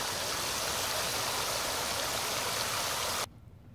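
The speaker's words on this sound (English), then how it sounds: "We're going to fill from the top using our garden hose and just fill this reservoir up and let it trickle down." Water from a garden hose pours into the top reservoir of a GreenStalk vertical garden tower, a steady, dense rushing trickle that holds evenly and then cuts off abruptly near the end, with no talking.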